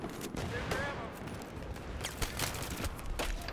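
Bursts of RPK machine gun fire in Battlefield 3, a rapid fusillade of shots with other battlefield gunfire, moderately loud and continuous, with voices talking over it.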